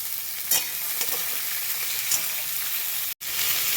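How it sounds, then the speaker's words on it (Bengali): Boiled figs tossed into a pan of frying potatoes sizzle with a steady, close hiss, broken by light clicks of stirring and one brief dropout. "আমি এবার সিদ্ধ করে রাখা ডুমুরগুলো সব দিয়ে দেবো। আলুর সাথে একটু ভেজে নেব।"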